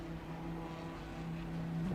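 A race car engine in Assetto Corsa Competizione idles with a steady, low droning hum, loud and close throughout, with slight wavering in pitch toward the end.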